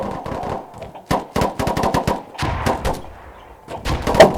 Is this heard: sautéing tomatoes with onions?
no